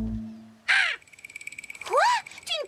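A cartoon seagull gives harsh, squawking calls, three bursts over a sustained high magical shimmer tone in an animated transformation scene, loud and close with no talking.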